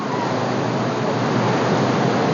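Kollangode Siddharkundu waterfall in Kerala, a constant dense roar of falling water, loud and near, with no voices over it.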